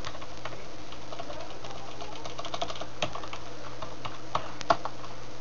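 Keys clatter on a computer keyboard as someone types commands into a Linux terminal, a steady run of quiet, irregular clicks with a few sharper taps near the end, close by and without speech.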